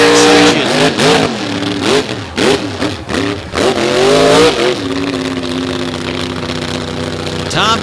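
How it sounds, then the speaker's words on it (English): A monster truck engine in a beach freestyle show, Tompkins at the wheel, roars through loud revving surges, then the RPMs fall away into a steady lower drone, close and dominant throughout. "Tompkins working the truck hard, and you hear the RPMs come down."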